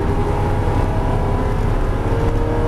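A Porsche GT3 engine accelerating on a race circuit, a loud, steady close-up drone with a strong low rumble held throughout, no speech.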